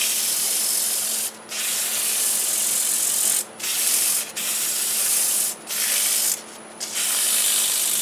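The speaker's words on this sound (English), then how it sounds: "I'm going to sand it in reverse at about maybe 500 RPM," Steady broadband hiss of sandpaper on a wooden ornament spinning in reverse on a lathe at about 500 RPM, continuous with a few brief dips where the paper lifts off.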